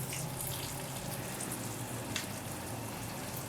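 Water poured into a pan of simmering chicken kofta curry (meatball salan), a steady broadband splashing and sizzling rush that holds evenly close up throughout, with no talk.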